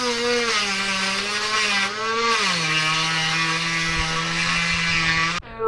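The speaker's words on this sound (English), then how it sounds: "I got my Dremel with a little cutoff wheel." A Dremel rotary tool with a small cutoff wheel trims the edge of a rivet on an RV window, a steady high-pitched whine with strong harmonics that dips in pitch under load, running continuously and cutting off abruptly near the end.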